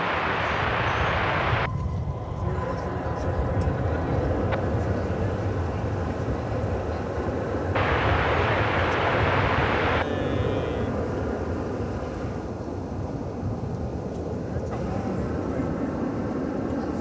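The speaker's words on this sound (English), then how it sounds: "American Flight 313 from San Diego now arriving." American Airlines jet from San Diego arriving at DFW Airport, a continuous broad roar of aircraft engines heard from a distance, steady throughout with shifting rushing tones and no voices.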